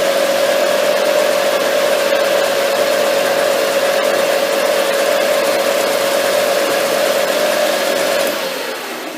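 A metal lathe runs at steady speed, giving a loud, even mechanical hum with a sustained tone that drops slightly as it settles near the end.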